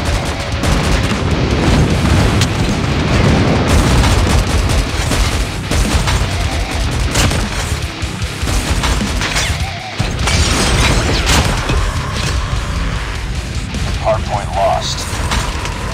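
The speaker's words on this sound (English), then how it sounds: "Friendly airstrike incoming." Friendly airstrike explosions and gunfire in the online shooter Call of Duty on the Rust map during a Hardpoint match, dense booms and bursts of shots under in-game voice announcements.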